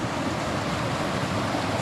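Dense, steady rush of a mountain stream flowing and foaming on a hiking trail at Panther Gap in Sequoia National Park, close and loud with no pauses.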